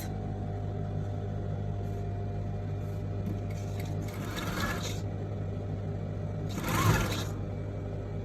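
A sewing machine stitching a Kabyle dress runs in a steady, continuous mechanical whir close by, with brief brighter rattles part way through and no talking.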